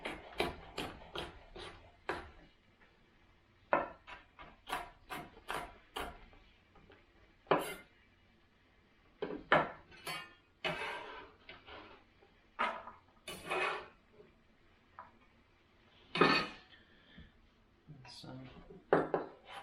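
A knife seeding jalapenos on a cutting board, with irregular sharp taps and scrapes of blade on board and clinks of kitchenware, close and clear, interspersed with short pauses.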